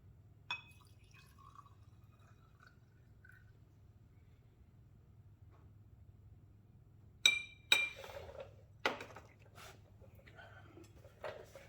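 Fuel injector fluid from decapped LS truck injectors is poured into a small glass jar, giving a few sharp glassy clinks and a brief trickle after a long quiet stretch, close and fairly faint over a low hum.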